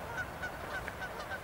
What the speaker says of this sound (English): The birds are, they're mocking you.